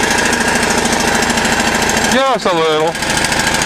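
A small engine idles while warming up after being choked, a steady, rattly mechanical drone running throughout at close range, with a brief spoken remark partway through.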